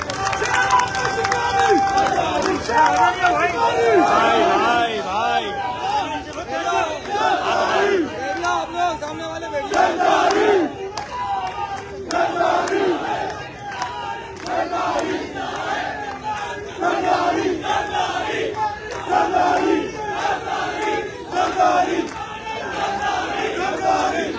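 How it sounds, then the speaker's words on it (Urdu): Crowd at a birthday celebration gathering cheers and shouts loudly, a dense, continuous roar of many voices welcoming a provincial minister, with chant-like surges throughout. "تالیوں کی گونج میں استقبال کیجیے"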